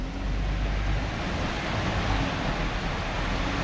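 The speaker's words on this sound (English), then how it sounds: "There's a new river running down the side there." Storm floodwater rushes down beside a building in Les Orres, a steady, loud broadband roar of churning water that holds unbroken throughout, with no talk over it.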